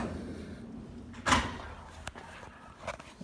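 A toolbox drawer slides open in one quick sweep, followed by a sharp click and a few faint knocks over a steady background hum.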